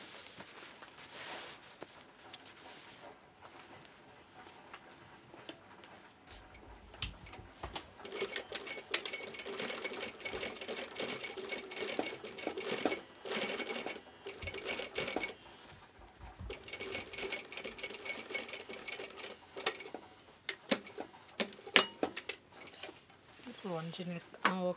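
A sewing machine stitches in the ditch along a seam while making a single welt pocket, running in fairly faint, continuous stretches with small mechanical clicks and rattles throughout.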